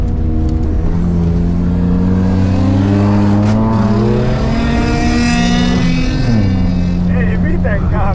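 A Nissan race car's engine holds full throttle on track, a loud, steady multi-toned drone with rising and falling pitch sweeps under an in-car voice.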